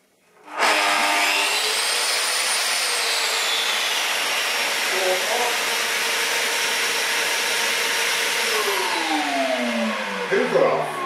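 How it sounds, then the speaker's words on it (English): A Vacmaster 20L industrial wet and dry dust extractor switches on with a connected power saw, starting abruptly into a loud steady motor whine and airflow roar with shifting tone, then winding down near the end. "the Hoover's plugged in, the saw is plugged in to the Hoover, and so let's give it a go."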